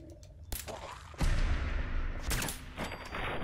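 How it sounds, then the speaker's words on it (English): Gunfire in Fallout 4 aimed at an enemy's legs: a few sharp shots with loud, close bursts, one heavy blast near the middle and another shot toward the end over game noise. "I'm gonna shoot your legs."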